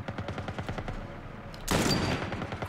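A sudden burst of rapid gunfire erupts partway through The Last of Us remake on PS5, loud and sustained, after a stretch of quieter rhythmic game sounds.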